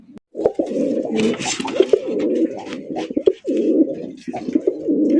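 Racer pigeons offered for sale coo loudly and close by in repeated throaty, rolling bursts, several long coos separated by brief gaps.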